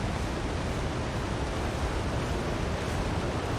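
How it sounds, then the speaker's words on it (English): Wind and bad weather in The Long Dark, a constant broadband rushing roar with no gusts or breaks, steady and fairly soft, with no other sounds on top. "Windy and bad weather, but"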